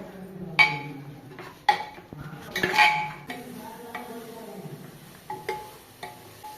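A spoon scrapes and clinks against a metal pot while biryani masala is stirred into the mixture for chicken biryani, with intermittent close knocks and scraping strokes and no talk.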